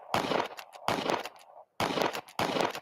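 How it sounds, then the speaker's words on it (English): Four bursts of gunshot sound effects called out to honor Jim Carrey, each a loud broadband blast with a short trailing tail, spaced roughly half a second to a second apart with gaps of silence between. "give me many gunshots for Jim Blood Clot Carrey"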